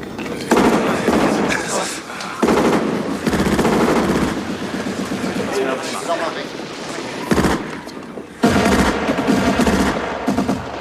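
Sustained machine gun fire in a German war film about the Battle of Stalingrad, loud rapid bursts with short pauses between them and talk mixed in.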